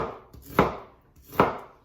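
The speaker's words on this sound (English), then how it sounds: "Slicing it horizontally, and then vertical slices because I want it pretty fine." A knife slices through an onion on a cutting board, making two crisp, close chopping strokes a little under a second apart, with no talking.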